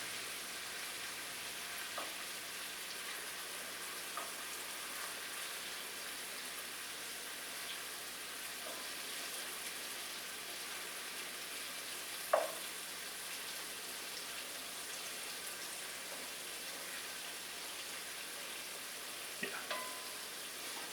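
Food sizzles quietly in a very hot pan, a soft continuous frying hiss broken by a few faint scrapes and clinks of stirring.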